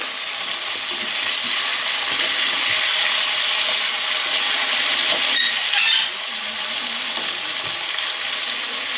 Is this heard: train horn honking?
no